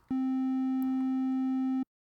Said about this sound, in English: it's kind of like, a slightly flattened out sine wave, or a fattened up sine wave